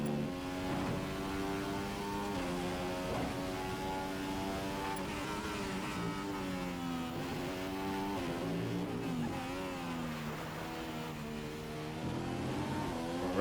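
An F1 car in the racing game F1 2015 howls through a qualifying lap, its high engine whine climbing steadily and dropping sharply at each gear change, sustained and close throughout.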